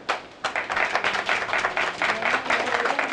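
Teachers at a national math workshop clap to cast a vote, a lively burst of many hands beginning abruptly and continuing in a brisk, fairly close patter, with some voices mixed in.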